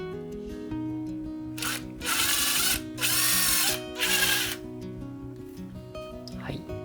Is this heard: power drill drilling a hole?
yes